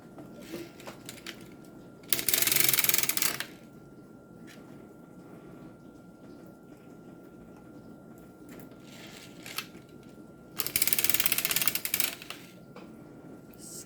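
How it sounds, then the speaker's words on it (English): Needles being pushed down one by one on a circular sock knitting machine give quiet mechanical clicks, with two louder bursts of rattling; close and fairly faint overall, with no talk. "watch me push down every single one of these 30 needles all the way around"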